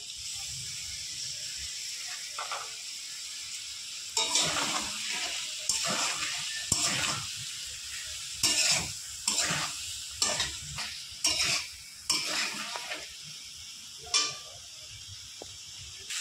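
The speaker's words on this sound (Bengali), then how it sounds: "এবার দিয়ে দেবো পোস্ত আর কাঁচা লঙ্কা বাটা।" A paste of ground poppy seeds and green chillies fries in a pan for aloo posto: a soft background hiss, then a run of louder, irregular scraping stirs and bursts of sizzle close by.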